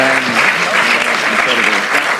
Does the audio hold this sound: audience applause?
yes